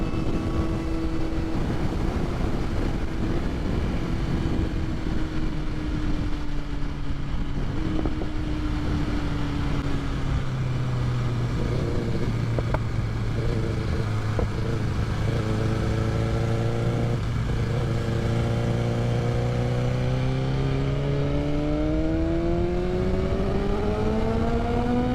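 A 2020 BMW S1000RR motorcycle engine screams steadily at speed, its pitch falling through a gear change, then climbing again as it accelerates, loud and constant under heavy wind rush.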